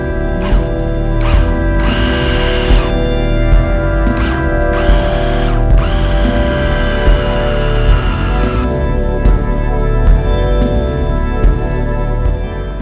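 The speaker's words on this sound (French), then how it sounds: "je vais procéder maintenant au perçage" Power drill boring into the enclosure of a Korg Volca Beats drum machine: three loud, close bursts of whirring, the longest about two seconds, over a steady background hum.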